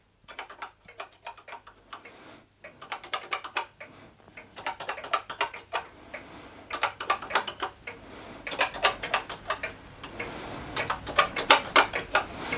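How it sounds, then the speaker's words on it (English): Bursts of rapid clicking keystrokes on a retro computer keyboard, close and clear, typed in uneven clusters with short pauses, no voices. "Let's try the keyboard."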